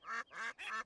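Three loud, nasal quacks from cartoon ducks sitting on a train track, evenly spaced in quick succession and heard close with no talk.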